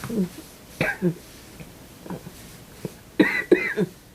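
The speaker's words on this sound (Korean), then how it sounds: "아내는 덩달아 기침도 심해졌다" A woman coughing at home, several short dry coughs in uneven bursts, close and moderately loud, with brief throat sounds between them.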